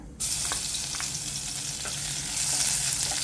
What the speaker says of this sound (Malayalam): വെളുത്തുള്ളി ഒന്ന് ചെറുതായിട്ട് വഴറ്റിയാൽ മതി